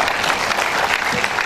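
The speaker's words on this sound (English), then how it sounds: "A round of applause for that." Audience applause fills a lecture hall at an inaugural lecture at a polytechnic, a dense, steady wash of clapping that holds at even loudness for its short run.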